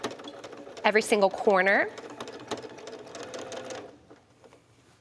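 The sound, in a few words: sewing machine free motion stitching around raw applique edges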